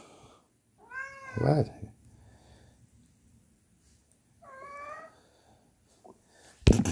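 A pet cat meows twice, two drawn-out rising calls a few seconds apart, close and clear in a quiet room, with a brief spoken word between them and a sharp knock at the end.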